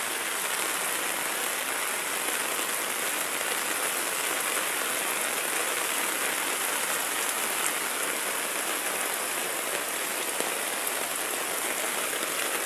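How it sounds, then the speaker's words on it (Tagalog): Heavy typhoon rain pours down steadily, a dense, constant hiss of water hitting surfaces close by, with no pauses and no voices. "Grabe ulan."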